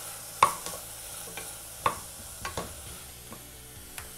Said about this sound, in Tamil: இப்போ இதையும் வந்து ஒரு நிமிஷம் வதக்கினா போதும்